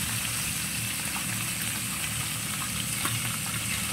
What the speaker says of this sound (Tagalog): Ayan ang aking piniprito isda.